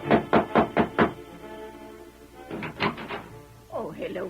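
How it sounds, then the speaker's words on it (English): Knocking on a ranch house door in an old radio Western drama: a steady run of five firm knocks, then a pause and a second shorter round, ending as a voice begins speaking. "Ted Bassett was knocking at the ranch house door"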